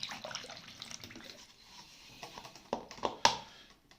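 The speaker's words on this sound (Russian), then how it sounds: "Так как вода у меня заканчивается, получится сейчас аккумулятор сполоскнуть." Water splashing and trickling while a car battery is rinsed, uneven pouring bursts close by with a few sharp clinks toward the end, no talk.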